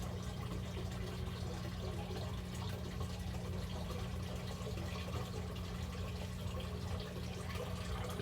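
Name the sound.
water draining from hydroponic flood and drain tank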